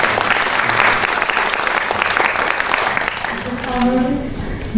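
An audience at a creative evening honouring Tariel Kharkhelauri breaks into loud, close, continuous applause, with a voice talking faintly under the clapping near the end.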